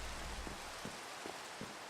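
Steady rain hisses in a Minecraft world in the Modern Skyblock 3 modpack, a faint even wash with soft scattered patters and no voices.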